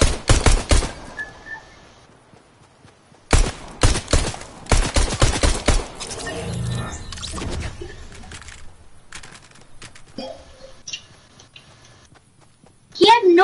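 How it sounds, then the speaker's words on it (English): Pistol shots in the Fortnite video game ring out in two quick rapid-fire bursts of sharp cracks separated by a pause, with players talking in the quieter stretches. "so I'm gonna use my pistol"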